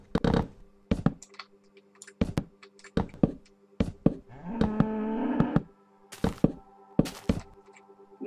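A cow moos in the Minecraft video game, a single drawn-out low call in the middle, between sharp clicks and thunks of game actions with a steady background hum.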